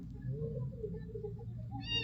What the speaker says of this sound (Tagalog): humihingi na yung pusa namin dito, Lods. Humihingi na ng share.